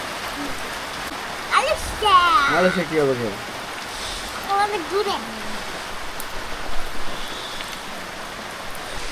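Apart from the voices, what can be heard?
rain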